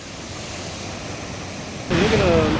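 Sea waves break against a rocky East Sea shoreline near Gyeongju during shore lure fishing, a steady broadband roar that surges noticeably louder partway through, with no talk over it.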